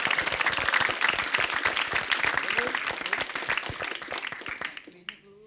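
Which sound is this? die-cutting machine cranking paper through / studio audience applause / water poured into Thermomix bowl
studio audience applause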